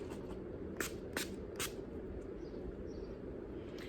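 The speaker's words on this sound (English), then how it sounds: "Now I'm just gonna spray my face with this e.l.f. Matte Magic Mist and Set setting spray." Three quick hissing spritzes of a setting spray bottle onto a face, evenly spaced, close up against a quiet background.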